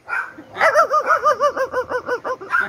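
A man imitates a dog barking, giving a rapid run of about a dozen rhythmic yapping barks, loud and close, between short bits of voice.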